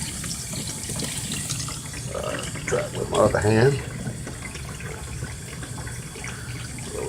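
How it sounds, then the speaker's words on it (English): Tap water runs into the tub of a portable twin tub washing machine, a steady splashing flow under a man's speech, with brief clunks of handling. "Now let me turn on a little water right quick."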